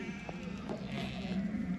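Sheep bleat in a pen of breeding stock picked for import from Europe, a continuous flock murmur with several overlapping calls at close range and moderate loudness.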